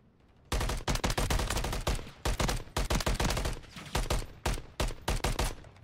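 Gunfire in the Call of Duty: Modern Warfare 3 ranked multiplayer match, a loud, close run of rapid shots in quick bursts with short pauses, no talking.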